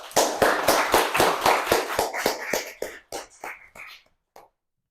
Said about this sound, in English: So we'll give him a big round of applause.